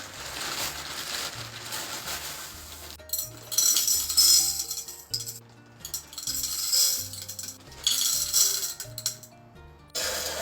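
Stones for a vase holding a Pothos cutting clink and rattle together as they are rinsed in water, giving bursts of small bright clacks and knocks that come in several rough handfuls, close and fairly quiet, with no speech.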